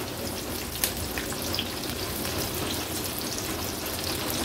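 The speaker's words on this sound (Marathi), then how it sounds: "मिरची तेलावर आहे ना थोडीशी परतून घ्यायची आहे" Large green chillies frying in hot oil give a steady, close crackling sizzle with a few sharper pops, continuous throughout with no talking.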